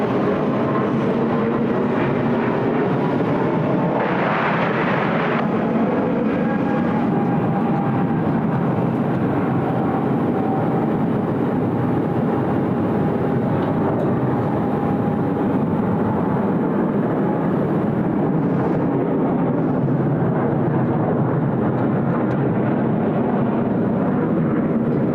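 A heavy United Airlines jet, flight 842, landing at Sydney Airport gives a continuous broadband roar with a faint steady whine, sustained and fairly loud throughout with no talk.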